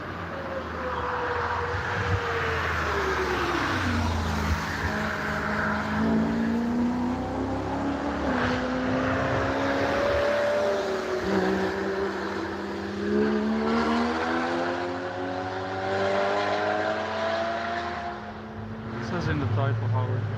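Racing cars at the Nürburgring, with engine notes climbing and dropping through gear changes as they run past, a steady roar throughout with people talking over it.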